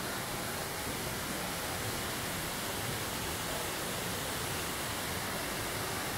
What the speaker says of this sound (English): we're up at the upper part of the fall. Might be a little noisy.